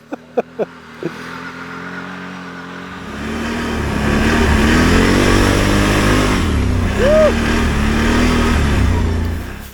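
A Ski-Doo Renegade XMR snowmobile engine with 91 horsepower starts, then revs up and pulls away, a loud droning roar that swells and shifts pitch before fading slightly, with a few sharp chirps at the start.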